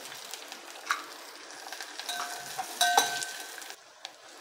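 Onion dropped into hot oil for a spicy pithla, a soft crackling sizzle with light clinks and scrapes in the pan, no talk.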